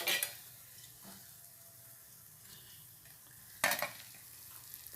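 Bonda frying in hot oil, a continuous bubbling sizzle with occasional louder stirs and scrapes of a utensil against the pan, close and without talk.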